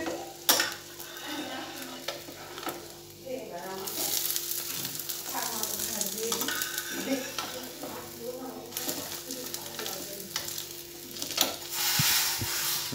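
Food frying in a pan in a home kitchen, steady sizzling with stirring and occasional scrapes and clinks of utensils against the pan, fairly quiet, with faint talk nearby.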